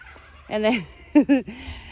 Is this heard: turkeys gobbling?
yes